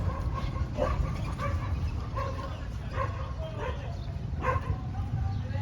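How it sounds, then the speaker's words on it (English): Several dogs barking and yipping in repeated bursts outdoors at a rough crossing beside a construction site, moderately distant over a low rumble of background noise. "The dogs are crossing right here."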